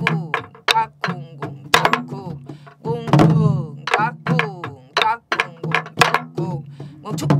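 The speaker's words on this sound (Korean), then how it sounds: "자, 어서 중중머리를 좀 쳐서 선도를 해주세요" A Korean sori buk barrel drum beats out the jungjungmori rhythm in a lesson, with sharp knocks and thuds landing in a regular pattern while a voice sings or chants throughout.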